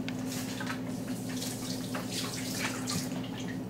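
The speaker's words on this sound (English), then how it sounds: "and then you're going to rinse it" Tap water runs steadily over quinoa held in a strainer in a home kitchen, a continuous even splashing and trickling with a low hum beneath and no talking.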